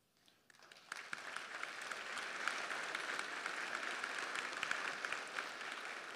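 Gala audience at a business hall of fame dinner breaking into applause, starting quiet then swelling within a second into steady, moderately distant clapping from a sizeable crowd.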